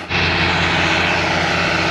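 Massey Ferguson tractor engine idling up close, a loud steady drone with an even low throb that holds unchanged after a brief start.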